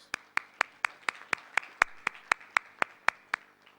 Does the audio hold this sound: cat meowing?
no